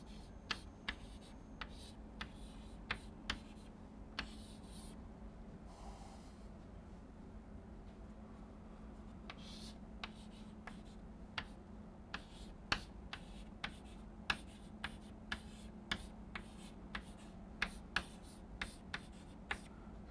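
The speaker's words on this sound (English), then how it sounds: "let me write what the result is" Chalk or marker strokes writing out an equation in a lecture on the hydrogen atom, heard as sharp, irregular taps and short scratches in steady succession over a low room hum, with no talking.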